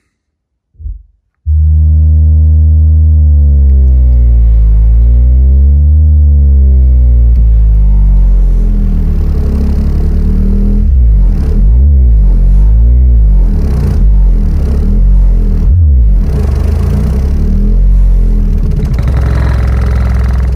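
Car audio subwoofer on a Down4Sound JP8 800W mono block amp, playing loud sustained low bass sweeps with harmonic overtones and chuffing air turbulence rushing from the enclosure port, continuous for about twenty seconds after a brief thump.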